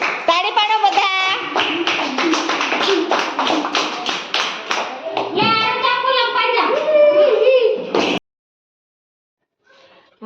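A group of children and Anganwadi workers clap together in a quick, dense, loud burst for the winner of a musical chairs game, with young voices mixed in, before it stops abruptly and falls silent.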